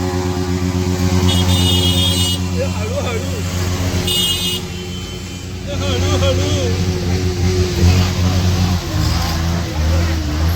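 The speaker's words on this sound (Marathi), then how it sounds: "ते गाडीचा आवाज बघा" Loud engine noise rumbles throughout as a vehicle runs close by, with a person talking over it and faint traffic in the background.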